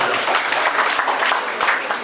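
Applause at a welcome ceremony for a newly appointed party treasurer, a dense burst of crowd clapping, loud and steady, with voices faintly mixed in.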